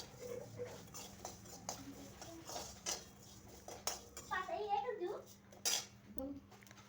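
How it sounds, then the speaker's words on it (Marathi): Cumin and coriander seeds dry roasting in a pan for a spicy Kolhapuri mutton dish, heard as close, irregular scraping and clinking of a spoon against the metal pan in short bursts. "अर्धा चमचा जिरे, अर्धा चमचा धने, चांगले भाजून घेऊया।"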